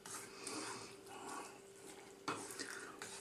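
A spoon stirs a ton of fresh cilantro into a pot of chicken lentil curry (murgh daal masala). The scraping is soft and quiet over a faint sizzle, with one sharper knock of utensil against pan near the end.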